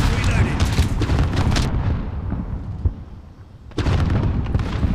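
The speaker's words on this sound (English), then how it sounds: "Allied cruise missile away" Heavy booming blasts and rumbling gunfire from a cruise missile strike in a military shooter game, loud and sustained with a brief lull before another burst, voices talking over the din.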